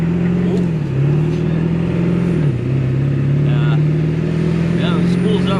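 A 1997 Ford F350 with the 7.3L Power Stroke diesel drones loudly and steadily as its turbo spools, the engine tone dipping and rising slightly, with talk over it.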